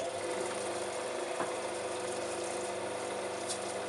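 Lapidary gemstone cutting and polishing machine running steadily, a constant motor hum and whir with faint buzzing, unbroken and close by.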